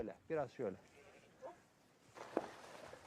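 Sheep bleat in a short run of calls close by on grazing land, a few wavering cries followed by quieter sounds and a last faint bleat.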